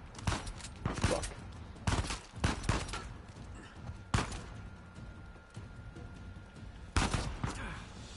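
Gunfire in the Uncharted 4 video game, several sharp bursts of shots in short volleys separated by pauses, loud and close against a low ambient background.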